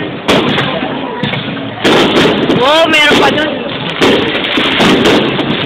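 Fireworks and firecrackers explode outside in loud, dense bursts with crackling and a whistling rocket, while a voice exclaims over them.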